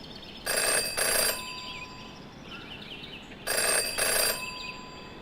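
Two bursts of a telephone ringing in a video game detective story, each a pair of bright trilling rings, with a faint warbling tone between them and no talk.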